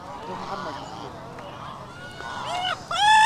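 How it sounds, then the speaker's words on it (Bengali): Squawking, clucking calls from native hens and roosters rise toward the end over a busy background of crowd chatter and noise at a poultry market in Kuwait. "এই যে তিনটা মুরগা রাতা"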